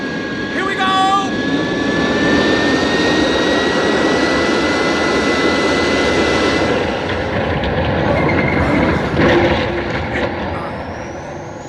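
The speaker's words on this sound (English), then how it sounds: "I'm aiming towards a small crater. Stand by for crash landing." A radio-drama sound effect of a spacecraft coming in for a crash landing, a loud sustained jet-like roar with rising whines that holds for several seconds and then thins out near the end.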